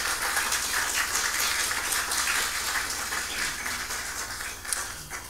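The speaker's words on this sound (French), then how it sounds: "j'aimerais ça qu'on les applaudisse très," Audience applause for volunteers at a seniors' games event for people aged 50 and over, a steady broadband wash of clapping from a crowd that holds for several seconds and eases slightly toward the end.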